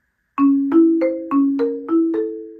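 Six struck marimba notes in an uneven, lopsided 7/8 rhythm, each ringing briefly with a warm, woody tone; a short solo etude phrase with no talking.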